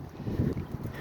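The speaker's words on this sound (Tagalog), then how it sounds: "ang lakas ng hangin guys" Strong wind buffets a microphone outdoors, a low, rumbling blustery roar that surges in uneven gusts over about a second.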